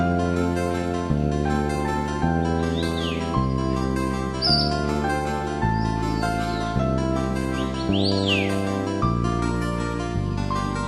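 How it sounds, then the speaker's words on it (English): Birds sing continuously in a natural broad-leaved forest along a walking trail, with several chirps and short song phrases rising over a steady background of sustained tonal music. "you can see the natural broad-leaved trees and hear the birds singing."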